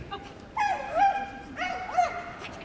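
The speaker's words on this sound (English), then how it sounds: "Dog which likes to make plenty of noise around" A 10-year-old Kelpie at a large indoor agility final gives two drawn-out, whining yelps with rising and falling pitch, fairly close over a steady arena hum.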